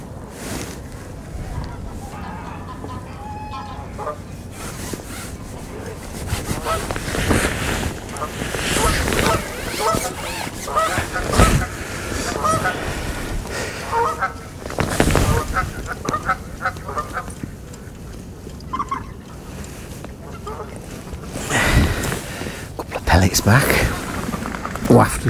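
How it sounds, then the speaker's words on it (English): Ducks squabble noisily on a fishing lake at Lindholme Lakes, with repeated harsh quacks and honks, scuffles and splashes over a busy outdoor background, and a voice talking at times. "these ducks, you can tell they're getting frisky because they're attacking each other all the time, non-stop, like a right racket"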